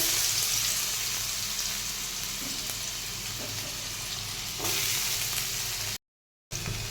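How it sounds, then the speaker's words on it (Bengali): Potatoes frying in hot oil with nigella seeds and bay leaves: a loud, dense, continuous sizzle close up, rising slightly near the end before a short gap and a resumed crackle. "তার সঙ্গে আমি আলুগুলোকে ভেজে নেব।"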